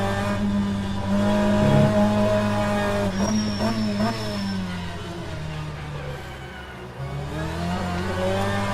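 Engine note of a BTCC touring car accelerating in the rFactor 2 racing game at Adelaide, the steady loud revving rising through the gears with tonal harmonics climbing and dropping across a gearshift.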